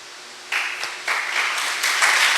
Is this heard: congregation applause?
yes